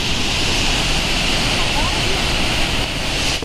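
Rushing water of Aharbal waterfall, a loud, steady, close roar of falling water that fills the whole stretch without a break and cuts off abruptly at the very end.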